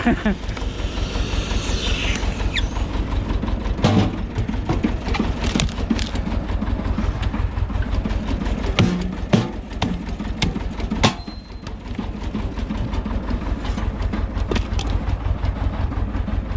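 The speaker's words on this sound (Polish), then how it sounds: "Aż przygasa ciągnik trochę." A heavy tractor engine rumbles steadily and loudly throughout, bogging under load while cutting firewood, with occasional clanks and knocks, its labored tone dipping slightly now and then as if straining.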